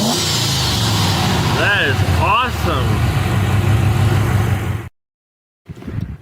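A Lincoln Town Car engine fitted with an aluminum truck intake runs with a loud, steady rumble, while someone talks over it; the sound cuts out briefly near the end, then resumes more faintly.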